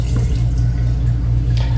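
Water runs steadily from an RV sink faucet through an aerator as a narrow, sharp stream, producing a continuous close splashing hiss with a low steady hum beneath it.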